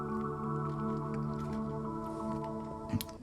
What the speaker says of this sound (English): the soft piano, a piano pad, which I usually have running.